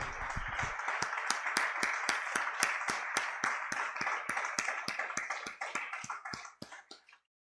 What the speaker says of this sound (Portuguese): Vamos aplaudir bem forte, Senhor